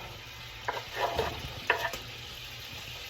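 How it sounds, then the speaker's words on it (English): Steak sautés in a pan of beer and mushroom juice, a low sizzle broken by a few soft stirring clatters; one brief word is spoken. "we're gonna saute this steak in that juice with the nice flavor, with the beer and the mushrooms"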